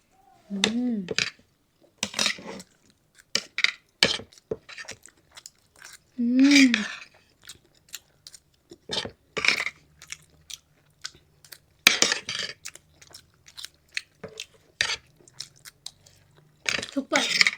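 Someone eating curd rice, momos, pasta and payasam during an eating challenge, with close, intermittent chewing and biting sounds in short bursts between stretches of quiet. Voices can be heard talking at times.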